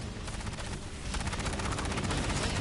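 Dense, continuous rapid gunfire in the video game Aliens Fireteam Elite, loud and close, a sustained machine-gun fusillade that intensifies midway with no talk.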